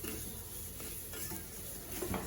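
Ingredients for ukkali, a traditional jaggery sweet, roasting in a hot pan over lowered heat, giving a steady soft sizzle with light stirring scrapes throughout, close and moderately quiet.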